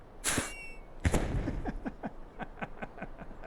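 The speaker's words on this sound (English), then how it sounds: "I thought I heard fireworks there." Fireworks shot from a cart in the video game Lord of the Rings Online: two sharp bursts followed by a steady run of popping crackles, moderately loud with no talk.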